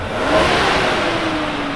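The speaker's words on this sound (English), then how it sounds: "That is some excessive revving." A car engine revs loudly nearby, its pitch climbing and holding in one sustained burst.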